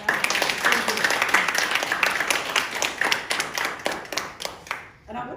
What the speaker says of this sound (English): So everyone, round of applause for us.